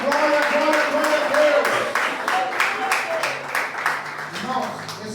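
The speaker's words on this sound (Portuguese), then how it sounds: "Dá uma salva de palmas para Jesus." A church congregation at an anniversary prayer-circle service claps steadily. The even patter of hands runs beneath a loud voice that leads the worship throughout.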